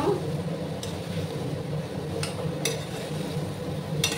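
Raw papaya being stirred with ghee in a pan. A faint, low cooking hiss runs throughout, broken by a few sparse, light clinks and scrapes of the spoon against the pan.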